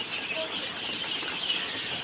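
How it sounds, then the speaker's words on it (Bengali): A steady, fairly faint chorus of high peeping from two-day-old Egyptian Fayoumi and Tiger chicken chicks, continuous without pause and heard on its own. "তো দেখতে পাচ্ছেন এগুলা মিশরি ফাওমি এবং টাইগার মুরগির বাচ্চা।"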